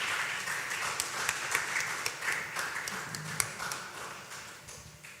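An audience at a food security dialogue in Abuja keeps clapping, a continuous crowd patter of many hands with occasional louder individual claps, gradually easing off over a few seconds.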